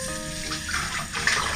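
Water runs from a tap in a steady close gush while pork knuckles are rinsed in a big pot, with a slight splash toward the end.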